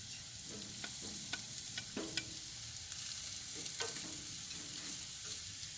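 Small onions frying in a pan for egg foo young, a quiet continuous sizzle punctuated by light scrapes and clicks of stirring, with no voices.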